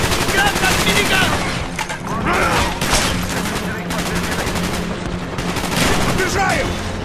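Minigun fire rattles in a Call of Duty Black Ops battle, with dense sustained bursts of automatic gunfire and explosions, loud and close, while voices shout over the combat.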